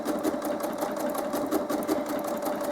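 A domestic sewing machine runs steadily, stitching a double blanket stitch along the edge of a quilt appliqué, with a continuous whirring hum and rapid needle clatter and no talk.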